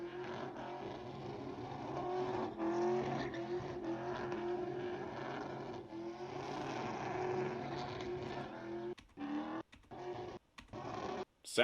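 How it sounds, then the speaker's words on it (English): A short-bed truck doing burnouts and donuts at SEMA revs hard and squeals its tires in repeated surging waves, then drops into choppy bursts at the end. "I'm not sure where they're doing these burnouts at."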